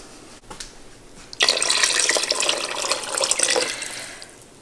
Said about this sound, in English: with a few inches of water.